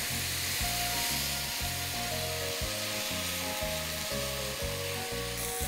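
Chicken sizzles steadily in a pan over a medium-high flame, a constant close frying hiss with no talk, while a rhythmic low thumping pattern runs underneath.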